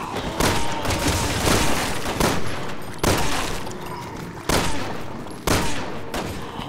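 Gunfire rings out in the video game Resident Evil 6 during Leon's campaign. Loud, close shots and booming blasts come in repeated bursts about every second or so, with no talking.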